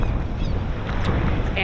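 Blustery wind and surf on a Uruguayan beach, a dense rushing roar with gusting buffets against the microphone, loud and continuous for a short stretch.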